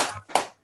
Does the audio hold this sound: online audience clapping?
yes